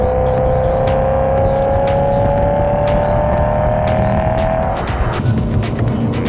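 A BMW M3 V8 accelerating hard, its loud, steady engine note climbing gradually for several seconds before it shifts and fades slightly, with nobody talking over it.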